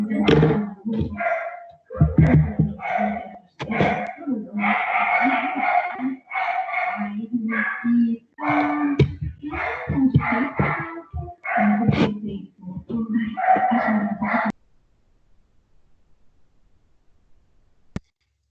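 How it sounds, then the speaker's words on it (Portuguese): A dog barks repeatedly in quick bursts, fairly close and loud, for several seconds before falling silent. "Só tô ouvindo cachorro latindo aí."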